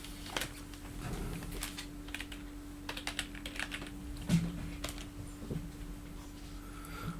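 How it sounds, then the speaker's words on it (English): Someone types on a computer keyboard with a scatter of light, irregular key clicks at close range, faint over a steady low electrical hum. "I forgot to type in random.org."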